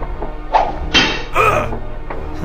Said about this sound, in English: His weapon broke, so now he's just gonna punch me.